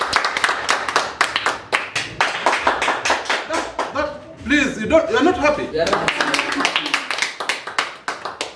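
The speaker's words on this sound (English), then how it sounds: "Can you clap your hands for her?" Students at a high school clap their hands for the new deputy principal in a series of sharp, rapid claps that briefly thin in the middle while a voice speaks, then pick up again at full strength.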